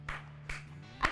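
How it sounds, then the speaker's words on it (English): Three separate sharp hand claps, close and fairly quiet, spread evenly over about a second with a low steady hum underneath. "Clap for that."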